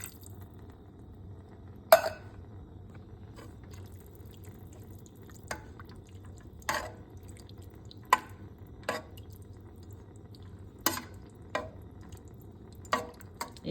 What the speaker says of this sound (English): It's still simmering and cooking.